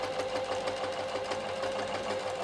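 A Janome sewing machine runs continuously while stitching a fine rolled hem, a steady fast mechanical whir and rapid needle ticking, close and even throughout, with no talking.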